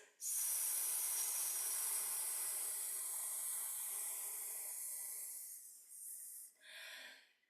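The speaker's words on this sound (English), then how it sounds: "So breathing in, create sound with the hiss." A person makes a sustained, breathy hiss through the teeth as a singing-breath exercise. The hiss is steady and close for about six seconds, then tapers into a few short, softer hissing puffs.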